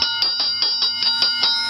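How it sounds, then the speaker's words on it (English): The doorbell at Starkey Ranch sounds as a bright electronic bell that rings rapidly in an even series of about eight chiming strikes, clear and fairly close, with no voices. "That's the doorbell at Starkey Ranch."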